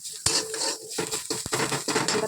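Vegetables, including eggplant, fried and stirred in a pan, with scraping and clinking of a utensil against the pan over a faint sizzle, in short bursts at close range.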